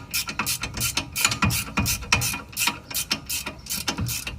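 A hand ratchet snugs up the 17mm caliper bracket bolts during a brake job on a 2002 Honda Accord Coupe, with fast, loud, close clicking in repeated bursts of strokes and short pauses.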